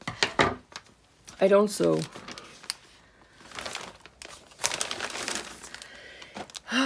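Fabric scissors snip and crinkle through plastic packaging during an unboxing, a few close, short cuts and rustles heard under and between a person's talk.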